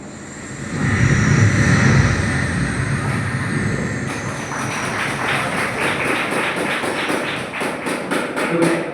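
A voice imitates an airplane landing: a swelling low roar with a whining high tone, settling into a steady rumble with rhythmic thumping like wheels rolling.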